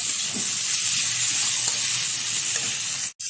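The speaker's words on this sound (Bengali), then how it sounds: "ভালোভাবে মশলাটা কষিয়ে নিয়েছি আলুর সাথে" Spices and potatoes fry in a hot pan with a dense, continuous bright sizzle and faint stirring scrapes, close and loud, cutting out briefly at the end; no voices.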